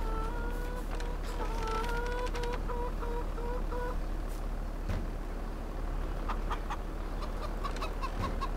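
Chickens cluck in a Farming Simulator 22 farm game, with a run of repeated clucks and calls over a constant low engine-like drone. Scattered sharp clicks are heard later. No one speaks.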